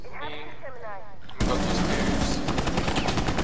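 Loud sustained automatic gunfire in Rainbow Six Siege bursts in abruptly after a quieter moment and continues as a rapid, dense rattle.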